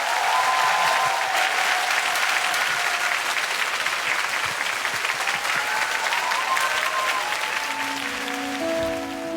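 A studio audience at a Korean TV music show gives long, loud applause for an indie band. The dense clapping holds steady throughout, and faint musical tones creep in near the end.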